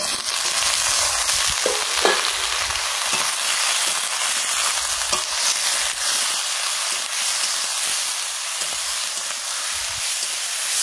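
Vegetables with green chilli and chopped tomato frying in a pan, a loud, steady hiss of sizzling oil with occasional scraping knocks as they are stirred, close up and without talk.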